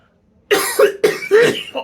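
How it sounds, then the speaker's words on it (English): A close, loud run of about four harsh coughs in quick succession, with short gaps between them. "I still have a little bit of a cough"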